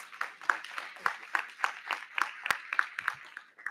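A small, sparse round of clapping at a school board meeting, individual claps clearly separated in a fairly quick, uneven rhythm, quiet and close, honoring the board president.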